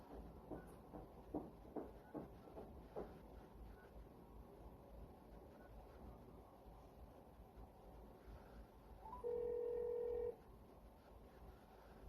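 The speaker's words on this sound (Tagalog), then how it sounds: "Tatawag nga pala ako kasi baka makalimutan ko." Telephone keypad dialing before placing a call: a few short beeps early, then a longer steady tone near the end, heard quietly indoors over low background noise.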